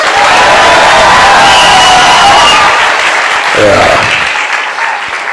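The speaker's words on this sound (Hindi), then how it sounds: "एक बार जोर से चिल्ला के ताली हो जाए" Loud applause and cheering from an audience at a Hindi-language Christian sermon, a dense continuous roar of clapping and shouts that swells slightly and then tapers off near the end.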